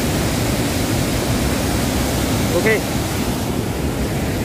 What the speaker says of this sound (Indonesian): airnya deras banget tuh ya.